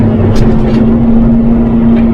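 A John Deere tractor pulling a four-bottom plough across a field gives a loud, steady engine drone with a strong constant hum and no change in pace.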